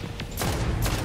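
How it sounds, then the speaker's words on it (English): A prototype gun fires in the sci-fi shooter Destiny, two sharp loud shots close together over a low rumbling bed. "That's one of the prototype guns."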